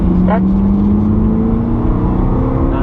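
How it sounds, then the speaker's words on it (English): A hot rod race car passes on the Brands Hatch circuit, its engine a steady droning whine heard from inside another car, with someone talking over it. "the hot ride car's coming past, so just go right round the outside"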